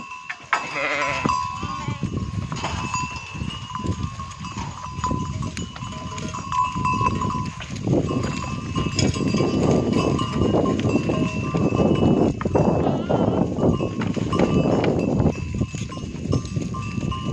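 A flock of sheep grazing in an 80-decare wheat field, with steady close rustling and chewing-like activity throughout, a few bleats near the start and faint bell-like tones above, no talk.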